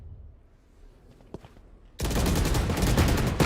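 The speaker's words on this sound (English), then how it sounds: "The Sheriffs are a deadly weapon of choice, and let's see if they can find those headshots onto the defending members" After two quiet seconds, Sheriff pistol fire in a Valorant competition match erupts into a loud, sustained volley of rapid shots that continues to the end.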